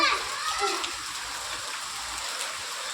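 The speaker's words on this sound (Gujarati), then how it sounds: "અત્યારે બહુ જ વરસાદ અહીંયા પડી રહ્યો છે" Steady heavy monsoon rain hisses down continuously in Bharuch, Gujarat, with faint voices in the background.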